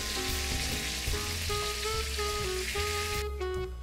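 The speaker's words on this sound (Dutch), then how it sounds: "Om mooi die eendenborst helemaal aan de zijkanten ook mooi mee te bakken." Duck breast fries in a hot pan with a continuous close sizzle and crackle, while background music plays underneath.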